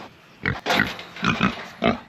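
Lufa the pig grunting at feeding time on a farm, several short close bursts separated by brief pauses.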